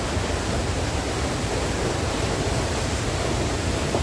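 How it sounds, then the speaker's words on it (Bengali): The Thankuan waterfall behind Jumgarh gives off a loud, unbroken roar of rushing water, a dense steady wash of noise with no pauses or voices. "জুমগড়ের পিছনে হচ্ছে থানকুয়ান ঝর্ণা"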